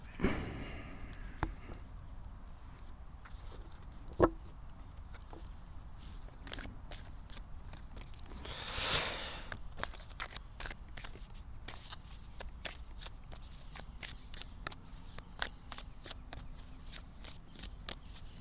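A deck of oracle cards is cut and shuffled by hand in a quiet room: repeated soft flicks and riffles over a long stretch, with a dull knock early on and a brief louder swell midway.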